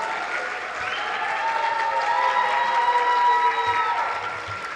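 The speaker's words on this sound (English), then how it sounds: "Please join me in applauding Taruneetha for her wonderful performance so far." Audience applause after a solo dance performance, a dense, steady wash of many hands clapping that holds evenly at full strength, with faint tonal music lingering underneath.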